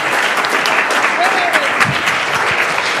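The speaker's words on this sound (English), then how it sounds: "Let's give them a round of applause." Applause in a city council meeting after an oath of office, a steady patter of clapping from a modest room audience with a few murmured voices and small noises mixed in.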